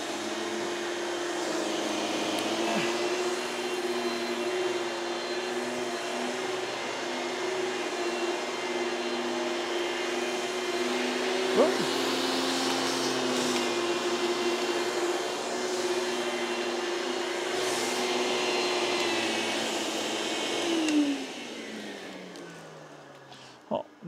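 A Hoover Quiet Series Celebrity vacuum cleaner runs steadily with a constant motor hum and airy whoosh, moderately quiet, then winds down near the end with a few small knocks.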